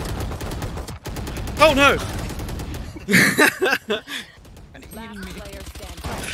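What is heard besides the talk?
gunfire in the video game Valorant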